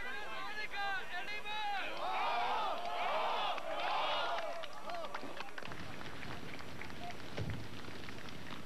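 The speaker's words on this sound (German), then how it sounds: "Und auch der Jubel ist organisiert." A large organised crowd at a state rally cheering and shouting in a dense, roaring wave of voices that rises, then fades into a muffled murmur.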